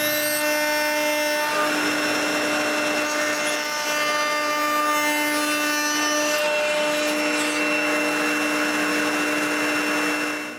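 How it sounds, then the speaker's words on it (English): A router cuts a 1/4-inch rabbet around wooden cryptex rings, a loud steady high-pitched motor whine with a gritty cutting edge that runs unbroken and close throughout. "So I route a 1/4-inch rabbet all around each one."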